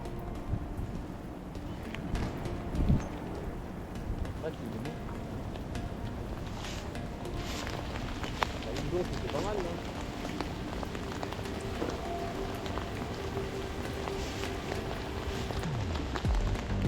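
Rain begins falling during a lure-fishing outing outdoors, a faint, soft patter of drops spread evenly over the whole stretch with occasional light ticks and a low background murmur.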